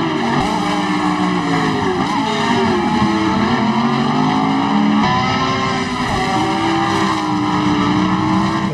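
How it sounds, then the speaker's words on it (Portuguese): A Ferrari engine in the Assetto Corsa racing game drones loudly and without a break for several seconds, its tone rising and falling as the car revs and shifts, with no voices. "O som dessa Ferrari ali é muito legal"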